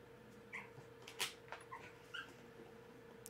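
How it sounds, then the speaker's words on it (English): Puppy whimpering and crying in soft, repeated high yips and whines, several short bursts spread over a few seconds against a quiet indoor background. "puppy, stop that. I don't like when you cry and there's nothing wrong."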